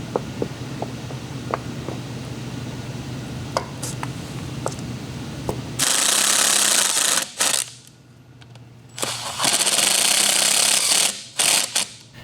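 A ratchet works while bolting a cleaned part back onto a 4WD Kodiak truck camper, first light rhythmic clicks, then bursts of loud harsh grinding mechanical noise with short pauses between.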